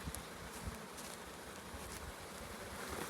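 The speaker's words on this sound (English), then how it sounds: "And there's bees left in this box." Honey bees buzz in a soft, continuous swarm hum, fairly quiet, with individual bees occasionally passing closer.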